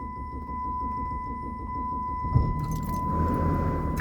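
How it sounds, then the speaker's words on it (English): Keys jangle in an automatic car, then the engine cranks and catches into a low idling rumble, all close by, with a steady whine running underneath and no talking. "so let's get this car started"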